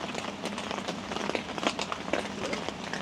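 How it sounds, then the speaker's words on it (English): Rain pattering steadily on a backyard camping tent during a rainstorm, a dense, close, continuous hiss of drops with scattered louder taps throughout. "I'm kicking back in the tent, listening to the rain"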